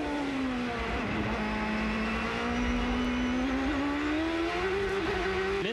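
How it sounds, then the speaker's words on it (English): A Champ Car open-wheel race car at the 2007 Grand Prix of Houston street race, its engine howling steadily and climbing in pitch as it accelerates out of a chicane, loud and continuous with no talk. "Wilson now taking that spot away from Bourdais, going down into the chicane again."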